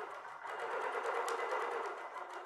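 A sewing machine quilts a notebook cover along a template with its stitch regulator engaged. It gives a steady, rapid, fairly quiet mechanical whirr of continuous stitching, with no voices over it.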